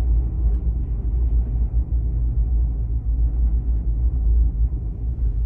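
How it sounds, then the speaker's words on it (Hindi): Strong wind buffets the microphone near the Ben Nevis gondola at Fort William, Scotland, a steady, heavy low rumble that roars without pause for the whole stretch, with no voices heard. "ये काफ़ी तेज़ हवा चल रही है।"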